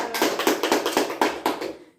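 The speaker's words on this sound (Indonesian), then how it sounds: "Mari kita berikan tepuk tangan pada alam." Children clapping together in a classroom, about eight rhythmic claps at a steady beat, close and moderately loud, stopping cleanly after two seconds.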